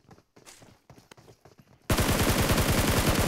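Rapid automatic gunfire in a battle royale shooter on the Livik map, bursting in loud and close after a stretch of quieter footsteps and movement, then hammering continuously to the end.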